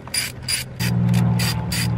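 A ratchet backs out a bolt on a BMW, with quick close clicking bursts of the pawl, then a continuous mechanical whirr as the wrench spins freely.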